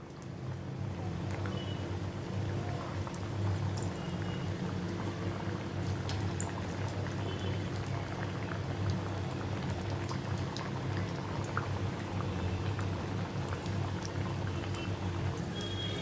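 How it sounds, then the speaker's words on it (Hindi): Wheat flour mathari with fresh fenugreek leaves sizzle and bubble steadily in hot oil over a medium gas flame, a dense, even crackling hiss that carries on without a break. "अभी ये ऑयल गर्म हो गया, इसमें मैं ये मठरियाँ फ्राई करने के लिए डालती हूँ।"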